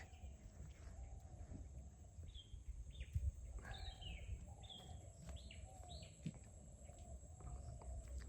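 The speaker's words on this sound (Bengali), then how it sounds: "আর কত রকম পাখির মিষ্টি আওয়াজ" Many kinds of birds call among wide rice fields lined with distant palm trees: scattered, quiet chirps and short whistles drift over a soft low rumble, none of them close.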